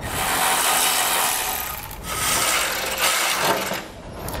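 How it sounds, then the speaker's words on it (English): A 16mm socket on a ratchet removes nuts from studs on a 2018 Mercedes-Benz bumper beam, giving close continuous ratcheting and metallic rubbing that rise and fall over a few seconds. "we'll take a 16mm socket and we'll pull the nuts off"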